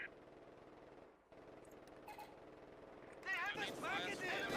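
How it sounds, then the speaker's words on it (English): A German MG machine gun rattles in a battle in the game Company of Heroes 2, faint and rapid at first, then growing louder toward the end under steady battle ambience while players talk over it. "That sounds like an MG."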